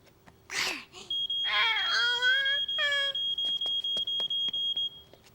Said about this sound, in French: nous allons réécouter le bruit que fait l'alarme pour pouvoir le reconnaître